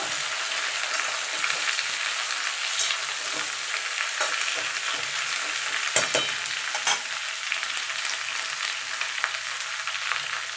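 Mixed vegetables for a Bengali five-vegetable curry fry in a pan with a steady broadband sizzle, while a spoon stirs with irregular scrapes and clacks throughout; no one speaks.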